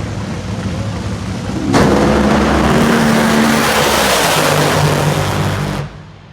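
An NHRA drag race at the York Nationals, with Bob Tasca III's Ford Mustang against Ashley Force: a sudden loud engine roar bursts in, holds at full blast for about four seconds, then cuts off abruptly.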